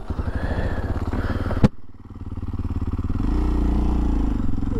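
A 2023 Kawasaki KLX230SM motorcycle, a dirt bike on street tires, chugs off-road over rocks and up a boulder, its engine close and loud with a sharp clack partway through before it revs up steadily again.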